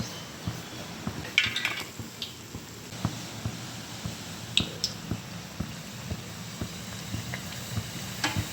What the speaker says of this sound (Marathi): चला आता ही पहिली पुरी तळून घेते